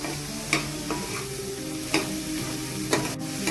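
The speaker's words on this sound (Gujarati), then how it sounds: "સરસ આપણે એને સ્ટવ ઉપર વઘારી નાખ્યા છે." Peanuts tempered in a kadai on a stove give a soft continuous sizzle, broken by three distinct stirring scrapes spaced about a second and a half apart, near and moderately quiet with no talking.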